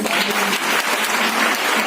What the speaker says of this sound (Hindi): एक बार माता रानी और बाबा के लिए तालियां बजाएं।